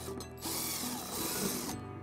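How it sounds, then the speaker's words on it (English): A power drill with a 3/16-inch bit whirs steadily for over a second drilling into a 2019 Toyota RAV4 bumper, close and loud, starting and stopping abruptly with no talking. "we're gonna drill our first hole using a 3/16 drill bit"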